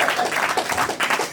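Brief burst of applause from a church congregation during a service, dense clapping throughout with faint voices mixed in.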